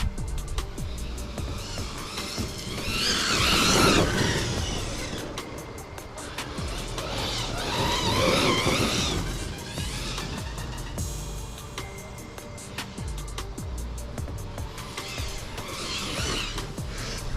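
A Team Corally Kagama RC car on its first run whines and buzzes as it speeds around, swelling louder and fading in waves as it passes near and then away, with a steady motor hum throughout and no talk.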